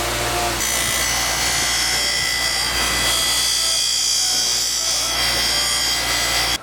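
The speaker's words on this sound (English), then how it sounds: "I'm just using a fine wheel here on a bench grinder." A bench grinder with a fine polishing wheel shines a motorcycle clutch cover from a YZ125 engine, giving a loud, steady whirring grind that holds throughout with no talk.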